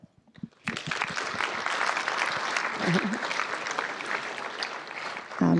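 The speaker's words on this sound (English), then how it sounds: "So everyone deserves a round of applause" At a university technology all-hands meeting, an audience breaks into sustained applause after a brief pause, a steady, fairly loud roar of many hands clapping that holds for about five seconds before a voice resumes at the end.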